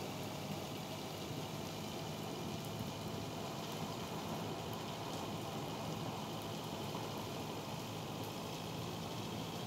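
Steady, even rain hiss falls across the whole stretch in a lake-area video game level, a dense constant wash with no pauses and no voices.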